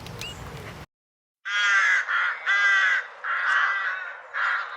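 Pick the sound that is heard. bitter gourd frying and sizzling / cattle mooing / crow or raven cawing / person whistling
crow or raven cawing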